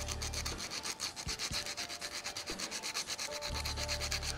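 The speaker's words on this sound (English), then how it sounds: "I'm simply going to chamfer the bottom edges of our inlays so that they slide in easier." Bottom edges of wooden inlays being chamfered by hand, giving a steady, close run of quick abrasive rubbing strokes that continue throughout with no talking.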